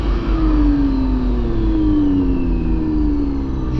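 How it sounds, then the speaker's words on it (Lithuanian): Motorcycle engines warm up at a practice lot before wheelie training, giving a loud, steady droning whir whose pitch slowly sinks across the clip, with no voices. "Šildom variklius, stabdžius."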